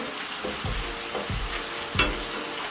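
Burger patties fry in a pan, a steady sizzle with faint stirring or scraping sounds heard close up, no talking.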